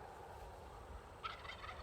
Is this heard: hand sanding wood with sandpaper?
no